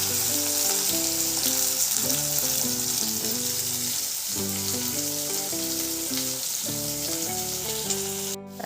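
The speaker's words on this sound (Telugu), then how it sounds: "పచ్చిమిరపకాయలు అవి వేసేటప్పుడే కరివేపాకు, అలాగే ఉల్లిగడ్డలు, ఇవన్నీ ఫ్రై కావాలి" Green chillies, curry leaves and onions fry in a pan for Telangana-style oats upma, giving a steady, close sizzling hiss that runs throughout beneath loud tonal background music.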